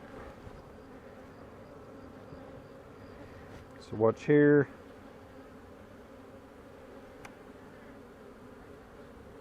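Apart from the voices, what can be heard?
bees buzzing around a hive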